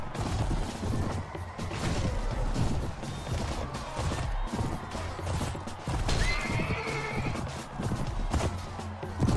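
In the game Mount & Blade Warband, a horse whinnies amid hoof clops, clanking weapons and battle noise, loud and close throughout.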